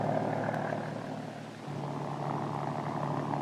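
Kaman HOK helicopter powered by a Lycoming turbine engine, heard as a steady, continuous droning hum with a constant low tone, moderately distant and unbroken, with no voices present.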